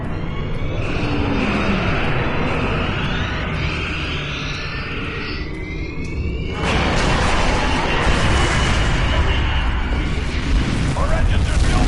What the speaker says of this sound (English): She's gonna ram the Nakul Dreadnought!